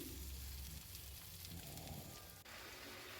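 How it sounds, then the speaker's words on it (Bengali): Onions fry in hot oil for a fish curry, a soft, steady sizzling hiss that stays faint and even, with a slight shift partway through and no talking. "আর এদিকে দেখো আমি মাছের ঝালটা করার জন্য পেঁয়াজ ভাজা বসিয়ে দিয়েছি।"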